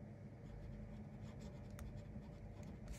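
Pen scratching across paper as a surname is written on the title page of a paper logbook, a soft continuous scribbling rasp held close and quiet throughout.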